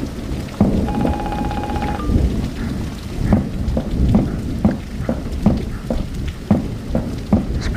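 Heavy rain pours steadily in the horror game Dentures and Demons, broken by repeated rumbles and cracks of thunder, with a brief electronic tone early on and no voices.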